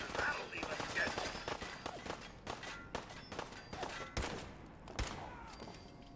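Gunfire in the video game Fallout 4, a series of sharp bursts and single shots spread through the clip, moderately loud, with a voice talking over the shooting.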